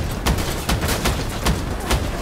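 Gunfire in the video game Crossout aimed at a helicopter, a steady run of heavy, rhythmic shots about every fraction of a second over dense mechanical noise.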